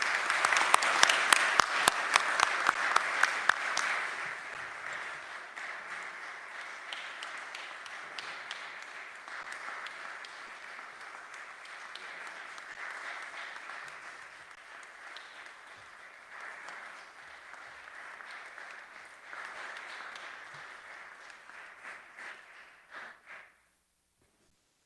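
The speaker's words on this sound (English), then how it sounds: "please give a round of applause for this great award for great person" Sustained applause at an OCS Infantry Hall of Fame award presentation at Fort Benning, loud and dense at first with sharp claps, then settling into a steady softer clapping that fades out.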